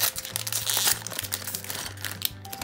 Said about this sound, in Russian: открою все три пакетика